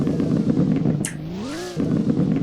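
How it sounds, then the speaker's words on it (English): A Lunare Intensa Emozione car engine in a Roblox game revs once, a rising and falling whine over a steady background engine drone, loud and close. "Revving is pretty solid too."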